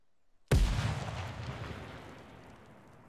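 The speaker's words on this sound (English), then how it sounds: "Two grenades. Okay, he's dead. Nothing. Grenade did kill him." A grenade detonates in the tactical shooter Ground Branch, a sudden loud blast with a long rumbling decay after a quiet start. No one speaks.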